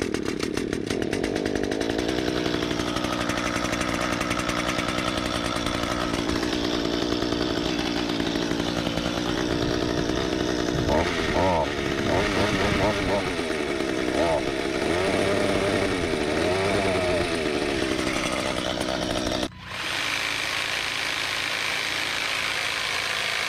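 A gas hedge trimmer engine cold-starts after priming and runs loud and close, its buzzing two-stroke note rising and dipping through several revs before it abruptly cuts out near the end.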